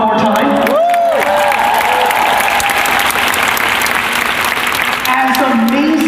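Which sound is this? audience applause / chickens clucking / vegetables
audience applause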